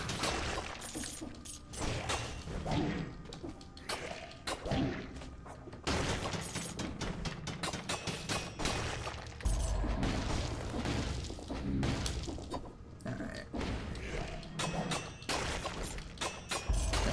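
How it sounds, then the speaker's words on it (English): Grenade explosions and heavy combat in the action roguelike game Dead Cells, a dense, loud barrage of blasts, crashes and shattering hits continuing without pause. "Guess you gotta use the grenade for it."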